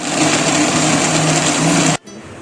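An electric grinder whirs loudly and steadily as it blends fresh ginger and 7 to 8 garlic cloves into paste, then cuts off abruptly after about two seconds.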